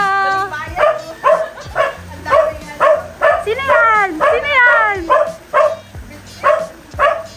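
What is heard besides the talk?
dog barking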